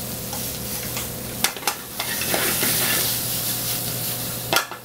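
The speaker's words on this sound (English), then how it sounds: "Keep everything sauteing," Shrimp and halved chunky U10 diver scallops sauté in a hot pan with a steady close sizzle, a few sharp clanks of stirring near the middle and end.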